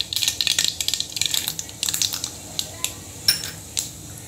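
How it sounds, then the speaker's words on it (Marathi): Mustard seeds crackling and popping in hot oil for a Maharashtrian poha, heard as a close run of sharp, irregular pops and snaps that thins out toward the end. "मोहरी अशी तडतडली टाकायची आता याच्यात।"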